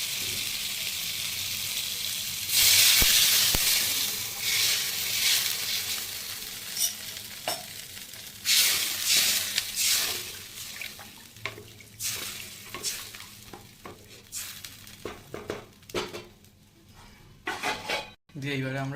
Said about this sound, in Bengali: এরপর আমরা এর মধ্যে জল দিয়ে দেবো।